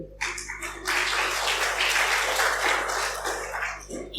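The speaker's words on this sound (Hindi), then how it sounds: "एक बार ताली तो बजाइए।" An audience at a talk on healthy living bursts into applause, dense steady clapping lasting several seconds before tapering off, over a low electrical hum.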